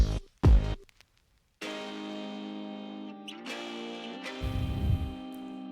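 Acoustic guitar sample given a vintage RC20-style coloration with the low end cut by EQ, heard alone as a few plucked notes followed by sustained, warm harmonic chords with a slight wobble toward the end.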